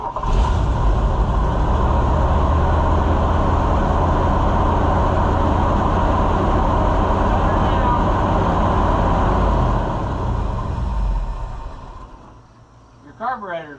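A Chevrolet C65 truck engine with a leaking fuel pump runs loud and close with a steady rumbling idle, then fades and sputters toward the end as the engine dies down.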